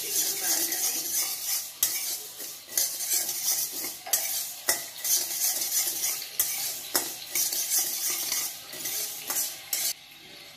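Raw rice dry-roasting for thalipeeth bhajani, stirred steadily in a hot pan on medium flame, with loud, continuous scraping and rustling strokes and sharp utensil clacks at irregular intervals, up close and without talk.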